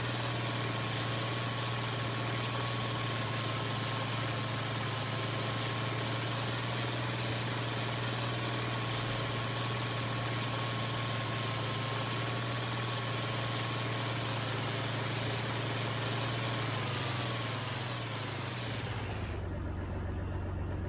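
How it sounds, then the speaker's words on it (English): A tractor engine idles in Farming Simulator 25, a steady low droning hum held evenly for most of the stretch before it cuts off abruptly near the end. "idle engine sound is not bad."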